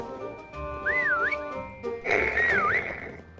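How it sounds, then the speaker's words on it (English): A prop's whistle in Call of Duty WW2 Prop Hunt plays twice as a clear, loud, warbling tune that rises and falls, the second burst fuller and brighter, with no talking. "Oh, I'm about to whistle."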